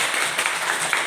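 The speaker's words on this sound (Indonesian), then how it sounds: "Tepuk tangan untuk kita semua" A classroom of students claps together in a brief burst of applause, a dense, steady patter of many hands filling the room with no voices over it.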